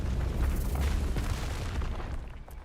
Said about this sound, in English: Let's use one of our rock explosion skills.